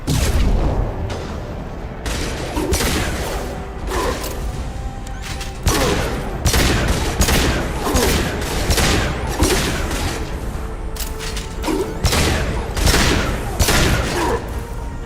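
Sustained gunfire in a Mass Effect 2 battle on Omega, with repeated bursts and booming shots layered over a loud, busy combat din that runs without pause.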